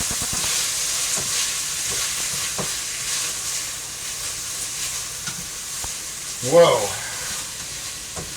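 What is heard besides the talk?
broccoli stir-frying in a hot pan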